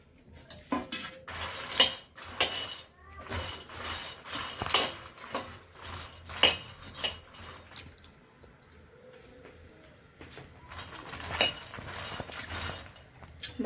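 Makhana (fox nuts) dry roasted in a kadhai without ghee, the light puffed nuts clattering and rattling against the metal in irregular bursts as they are tossed, fairly quiet and close, no voices.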